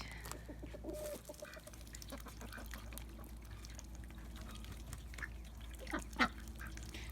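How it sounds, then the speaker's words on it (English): Ducks quack and chatter softly at a moderate distance over a constant low hum, with one louder call near the end, on a farm with goats, chickens and guineas. "Ducks are cute, but I'm not a big fan."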